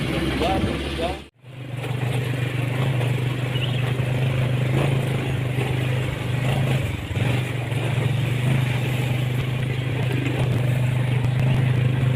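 A mountain-type motorcycle engine drones steadily up close during a corn harvest, a low constant hum that runs almost the whole time after a brief cut near the start.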